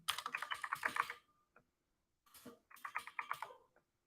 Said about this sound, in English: Then I can type it anything, like anything I can type.